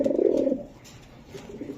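Racing pigeons from a club loft coo close by, a loud throaty burst at the start followed by softer, intermittent cooing.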